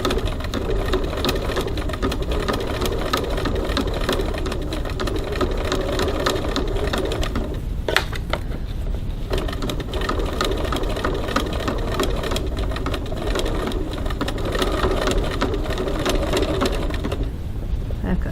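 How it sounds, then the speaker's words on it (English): A sewing machine stitches down the side of a strap, its fast mechanical patter running steadily and close throughout with only a brief pause. "Stitch down the side. About 3 millimeters, 1/8 of an inch from the edge of the strap."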